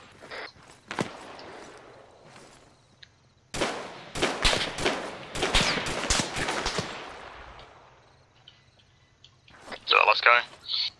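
ArmA 3 military-sim gunfire: a few scattered shots, then a dense burst of rapid automatic fire in the middle and another sharp flurry near the end, with insects chirping softly in the background.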